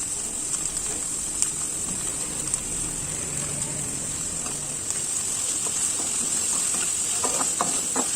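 Chopped onion sautés with salt in a pan for Yippee noodles, giving a steady soft hiss and sizzle with occasional stirring scrapes, fairly quiet and close, no talking.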